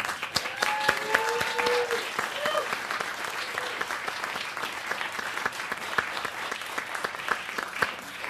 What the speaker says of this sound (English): So let's please give a round of applause for Franklin Abbott.